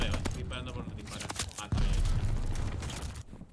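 Rapid gunfire and explosive bursts from the shooter video game Call of Duty Vanguard, loud and dense, with a heavier barrage surging in partway through before cutting off near the end.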